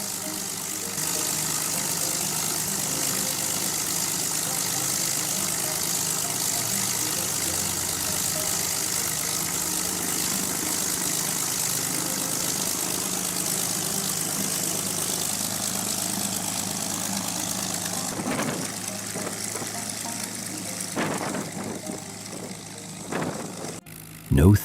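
Allison V-1710 liquid-cooled V12 aircraft engine idling, a steady deep rumble held for a long stretch at even volume, followed near the end by a few brief bursts of broadband noise.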